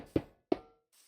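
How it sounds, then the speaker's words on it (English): An iron block placed down in Minecraft gives two short, solid knocks a moment apart, close and dry with a brief ring after each. "they've changed the sounds of iron being placed down."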